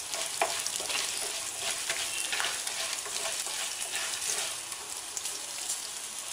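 Urad dal and cumin seeds fry in hot oil as they are stirred, a quiet, steady crackling sizzle like light rain with occasional soft scrapes, heard alone without talk.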